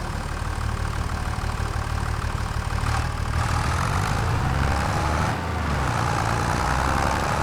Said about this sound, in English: I need that other tractor